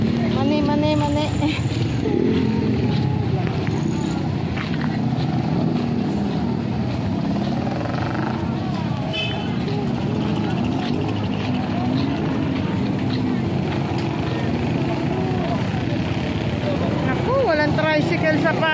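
Motorized tricycles rumble at a busy parking area on a street, their engines droning steadily along with passing traffic noise while people talk nearby.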